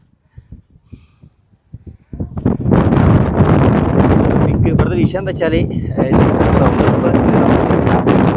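Strong wind at a hilltop viewpoint above a road buffets the microphone in a loud, continuous roar, while a person talks close by throughout.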